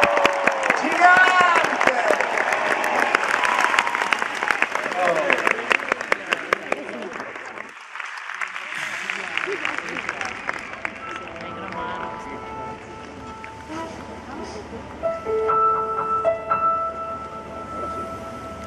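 A large audience at the Arena di Verona concert applauds the performer with loud sustained clapping and cheering that gradually fades, while someone shouts over the crowd and music later rises.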